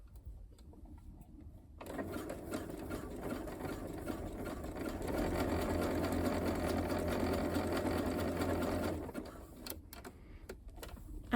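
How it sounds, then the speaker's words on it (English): A sewing machine runs a medium zigzag stitch along a seam in stretch fabric. The motor hums steadily for about seven seconds after a quiet start, then stops, with no talking. "when you're sewing this seam, try not to stretch anything, because it's a stretch fabric"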